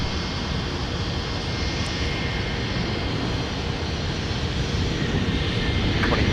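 A Boeing 757 jet roars loud and steady at MSP airport in winter, its broad engine rumble filling the scene without a break.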